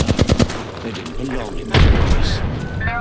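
Rapid bursts of gunfire in the battle game Apex Legends, a quick string of shots up front and then steady shooting, heard under excited talking.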